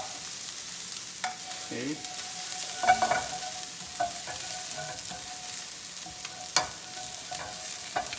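Shallots sizzle and crackle in olive oil as they are stirred in a pan, a steady low frying hiss with occasional spoon clinks and scrapes, and a brief spoken word partway through.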